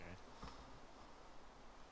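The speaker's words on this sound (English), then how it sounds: "Oh my god, these bees are so annoying." Bees buzz persistently in a modded Minecraft-style game, a steady insect drone filling the brief stretch at low level, with no talk over it.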